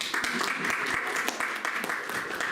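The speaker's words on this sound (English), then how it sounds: "Yeah, you can clap." An audience at a talk breaks into steady applause, a continuous crackle of many hands clapping at moderate volume, with scattered louder claps and faint voices under it.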